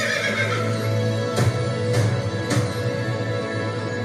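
A horse neighs loudly and close by, with three sharp whinnying bursts evenly spaced over a steady background, alongside faint hoof clip-clops and no talking.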